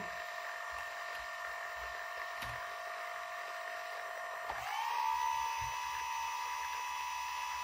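BLDC drone motor under PWM control on a Raspberry Pi Pico, heard as a steady high electronic whine close by that rises in pitch partway through as the speed increases, with no talk.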